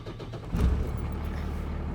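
A stick shift diesel car's engine cranks and catches about halfway through, then settles into a low, steady idle rumble heard up close with no talking.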